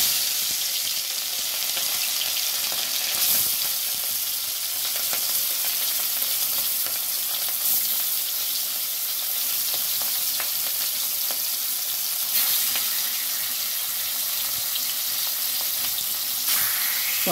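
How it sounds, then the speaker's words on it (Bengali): Rohu fish frying in hot oil in a wok makes a dense, loud, continuous sizzle that stays even from start to finish, broken only by a few faint clicks. "এবার আমি মাছটা ভেজে নিচ্ছি।"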